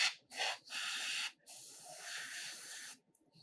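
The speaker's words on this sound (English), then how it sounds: "we're spraying a little bit of color" A spray of thinned paint, mostly water, misted onto a painted hobby figure in short hissing bursts: one brief, then two longer sustained sprays, close but soft, with no speech.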